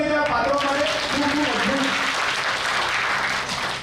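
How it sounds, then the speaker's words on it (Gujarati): Audience applause for the actors at a village stage play, a dense, steady wash of clapping that holds loud across the whole stretch and thins slightly near the end. "કોઈ તાળીઓ થઈ જાય પાત્રો માટે"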